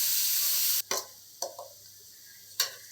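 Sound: sautéing tomato and onion in oil for kuzhambu

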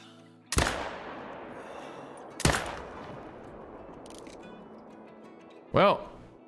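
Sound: hunting rifle shot at 260 yards in the video game Call of the Wild

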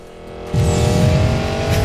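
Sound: nitro boost of a car in the video game Need for Speed Payback

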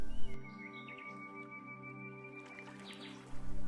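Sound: birds singing

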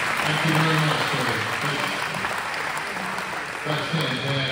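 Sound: applause

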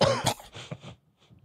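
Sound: coughing

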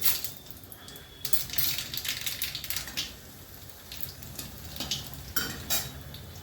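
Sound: chillies and black cumin sizzling in hot oil for tempering

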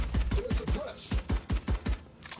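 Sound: gunshots in the video game Valorant

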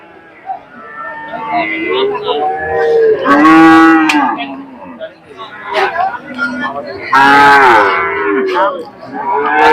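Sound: cattle mooing at market

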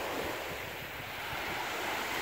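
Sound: calm sea waves at a beach

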